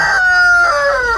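A chicken crows in a single loud, close call with a harmonic, drawn-out cry that breaks into a second, lower segment before trailing off.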